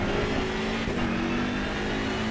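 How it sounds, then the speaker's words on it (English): A race car engine in Assetto Corsa Competizione on a British GT circuit, lugging at low speed through a slow corner: a steady, close, droning engine tone with no talking. "Almost stalled the engine."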